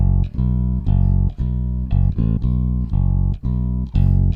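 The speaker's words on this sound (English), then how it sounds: "We have what I can only describe as a very bouncy bass line," Bouncy, rhythmic bass line from a video game battle theme, with loud sustained low notes in a steady, looping pattern and percussive accents, no voices.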